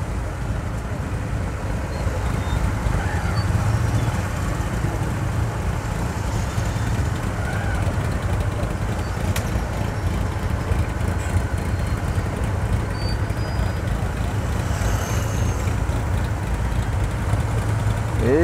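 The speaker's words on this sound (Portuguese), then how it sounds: "Muito carro, muita moto" Dense road traffic in Natal, Rio Grande do Norte, with many cars and motorcycles queuing toward a bridge: a steady low rumble of engines and passing vehicles, continuous and fairly loud throughout.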